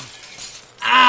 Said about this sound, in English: Did my head just break glass?